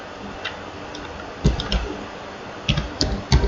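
Computer keyboard keys are tapped while typing text into a Linux terminal, producing small clusters of close, crisp clicks over a soft background hiss.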